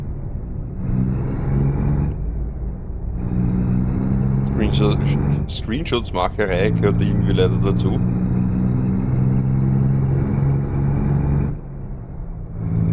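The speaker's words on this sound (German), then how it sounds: "dieser Lastwagen ist mit einem 18-Gang-Getriebe ausgestattet. Das heißt, der schaltet dementsprechend oft." A Kenworth truck with an 18-speed gearbox in American Truck Simulator, driving through Texas: a steady droning diesel engine whose pitch drops at several gear shifts, with a burst of higher mechanical noise midway, under someone talking.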